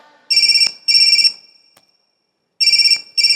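A mobile phone ringtone plays in loud, repeating electronic bursts with a short silent gap between pairs, close and clear, with no talking.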